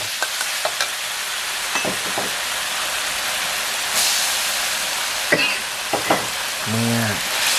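Minced pork stir-frying in basil sauce in a pan, a steady loud sizzle with scattered scrapes and clinks of a spatula, close up and continuous.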